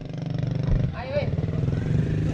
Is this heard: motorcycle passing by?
yes